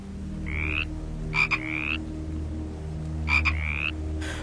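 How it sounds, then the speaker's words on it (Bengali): Frogs croak in short rising calls, a pair early and another pair later, against a quiet low hum. "ঘরের খুব কাছেই কোথায় যেন ব্যাঙের ডাক শোনা যায়।"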